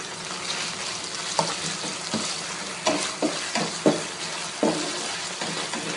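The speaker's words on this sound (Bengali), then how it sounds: "চিংড়িটা জাস্ট হালকা একটু ভেজে নিব।" Prawns dusted with a little turmeric fry lightly in a pan, giving a steady close sizzle with repeated scraping stirs and clicks of the spatula against the metal.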